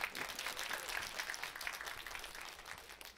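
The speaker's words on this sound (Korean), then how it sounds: "우리 하나님께 감사의 박수 올려드릴까요?" A church congregation at a rooftop worship service gives a steady round of applause in thanks to God, close and sustained for several seconds before tapering slightly.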